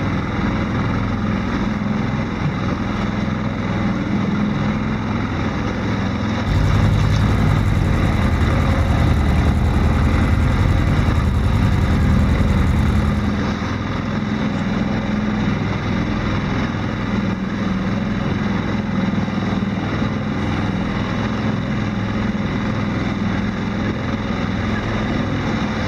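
Outboard motor driving a Magnum 18 trimaran on the Gulf of Morbihan, a steady droning engine with wind and water rush that swells louder for several seconds midway, then settles back.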